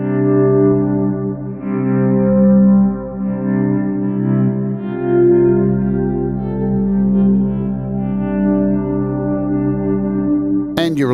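A sustained synthesizer pad from the DroneLab Pro iPad app with the attack turned up, a thick drone-like tone holding steady and loud throughout, a brief sharp transient near the end.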